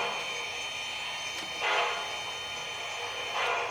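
MTH GS-4 Proto 3 model steam locomotive with a Daylight passenger train backing up slowly at scale speed, a steady mechanical hum under two brief chuffing bursts, close by.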